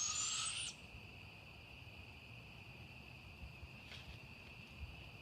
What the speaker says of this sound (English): You can also hear the owl making its noise there.